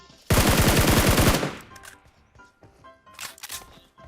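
A loud burst of rapid automatic gunfire in PUBG Mobile rattles for about a second, then trails off into quieter scattered game sounds and faint clicks.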